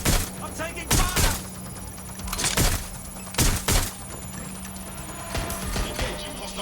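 Several loud bursts of gunfire in the Watch Dogs: Legion video game come in separate volleys of two or three close shots, with a low steady hum underneath between the bursts.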